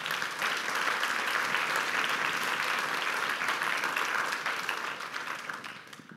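Sustained, loud applause from a large audience at an annual meeting keynote, steady and dense throughout before thinning slightly at the end.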